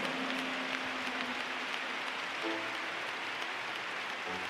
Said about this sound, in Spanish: Si ese aplauso es para el Señor, hágalo mejor